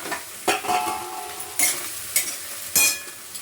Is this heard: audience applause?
no